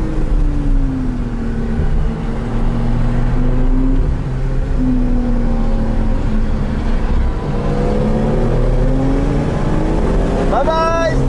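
A Porsche Cayman GTS accelerates around a circuit, its close, loud engine note climbing and easing through the gears in a continuous run, with brief voices in the background.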